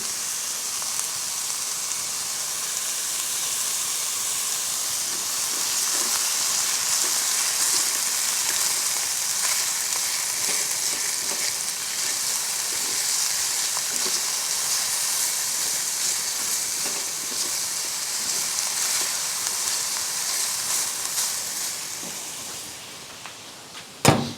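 Vegetables stir-frying in tallow outdoors: a steady, loud, broad sizzle and hiss runs for the whole stretch, with small clicks from stirring, then fades near the end.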